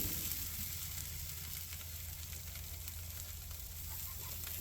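A burger patty fries on a hot surface, giving off a steady, dense sizzle that stays loud and even throughout with no talking over it.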